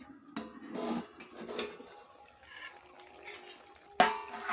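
A metal lid clatters and scrapes on a cooking pot of chicken and eggplant curry, quiet and close, with soft stirring clinks and a sharper knock near the end.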